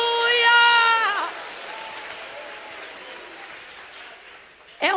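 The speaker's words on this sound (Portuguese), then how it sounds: "Mistura essas palmas com glória a Deus" A church congregation clapping in praise, a broad patter of many hands that follows a sustained shouted voice and continues softer underneath, with a sharp burst at the very end.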